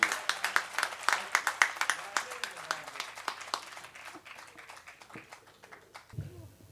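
An audience at a Hindi poetry gathering applauds the poet Rajesh Chetan. Lively clapping starts loud and dense, then thins and fades over several seconds, with a brief low sound at the end.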